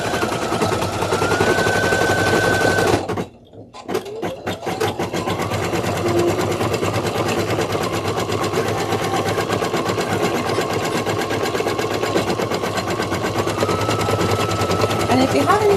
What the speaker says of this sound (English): So now this is going to stitch down the applique.